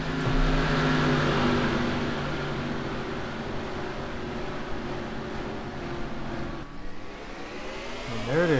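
Stock cars in a racing video game of a late model series at Thompson drone together at a race restart. The loud, steady engine roar swells and shifts pitch near the end as they accelerate.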